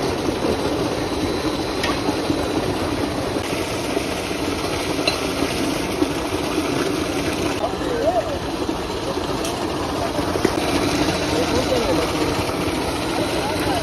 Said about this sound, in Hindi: अब देखिए मोटर चल रही है फ्रेंड